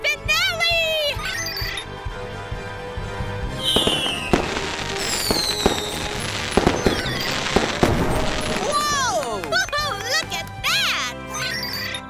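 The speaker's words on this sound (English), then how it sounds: "Why are fireworks different colors?" Cartoon fireworks burst in a dense grand-finale barrage, with whistling rockets, crackling pops and loud bangs under a cheerful music score, while child-like voices chatter and exclaim.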